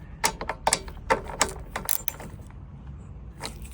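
Bolts being tightened on a Mountfield RS100 mower during a fuel pipe repair, giving a run of close, sharp metallic clicks and ratcheting bursts that fade into quiet near the end.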